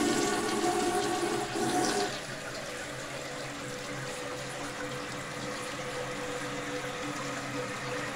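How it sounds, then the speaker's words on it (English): A toilet flushes loudly in a bathroom with a recently opened sink vent, rushing for about two seconds before settling into a steady, quieter hiss of the tank refilling. "we have a flushing."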